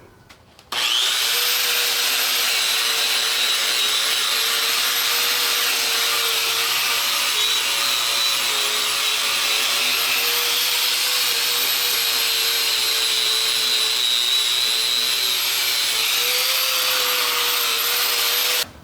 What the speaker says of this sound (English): So I'm just going to get my wire wheel, clean this up a little bit.